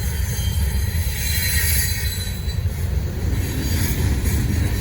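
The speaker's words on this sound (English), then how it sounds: "Good old trip optimizer running this train to the ground." A Norfolk Southern freight train rolls past close by, its railcars rumbling loudly and wheels squealing continuously on the rails without a break.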